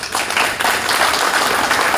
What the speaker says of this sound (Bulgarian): Аплодисментите ви са много важни